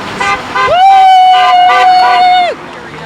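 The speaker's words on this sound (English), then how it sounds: "You're enthusiastic with the horn honks." Car horns honk at a 2015 rally in Los Angeles: a few short toots, then one long sustained blast lasting nearly two seconds, over a murmur of crowd noise.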